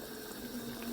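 Water running steadily into a pot of red kidney bean curry, a soft continuous splashing and hiss, faint and heard alone.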